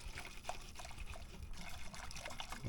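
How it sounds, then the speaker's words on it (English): Gravy mix being stirred into warm water, a continuous soft liquid swishing and trickling at low level with no talking. "give it a stir"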